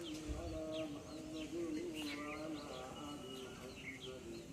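Birds chirp and call intermittently over a steady background hum, heard from a rooftop, with soft cooing notes, fairly faint and distant.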